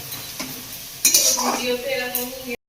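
Food is stirred and fried in a home kitchen pan, with a utensil clinking and scraping against the metal over a soft sizzle, louder at mid-clip before cutting off.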